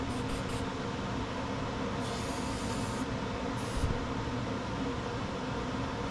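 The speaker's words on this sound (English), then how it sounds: "Always like to spray these." An aerosol can of battery terminal protector sprays onto the battery of a Husqvarna YTH22V46 riding mower in a few short hissing bursts over a steady background hum.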